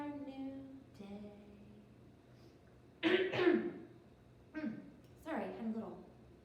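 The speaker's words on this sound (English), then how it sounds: "Notice how when I coughed, I coughed into my elbow." Two bursts of coughing, a person clearing something from the throat, about midway and again near the end, following a stretch of a woman's singsong speech.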